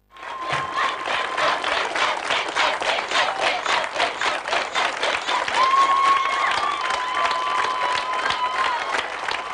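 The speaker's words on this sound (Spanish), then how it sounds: "Digas lo que digas, la gente te aplaudirá." A large crowd at a political youth camp's opening speech applauds loudly and continuously, with dense clapping, a few whistles and cheers rising through the nearly ten seconds.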